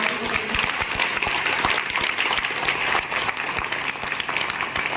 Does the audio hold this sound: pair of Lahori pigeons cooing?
no